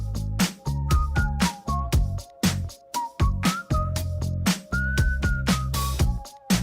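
A whistled melody rides over a song with a bass groove, bright sustained notes gliding and stepping up and down above punchy rhythmic beats, no voices.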